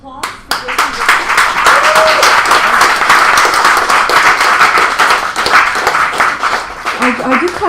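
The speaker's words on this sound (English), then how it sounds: "a round of applause for Jason" Audience applause for a feature poet at an open mic poetry night, a dense patter of clapping hands from a small back-room crowd that swells quickly and holds steady, with a few voices calling out over it.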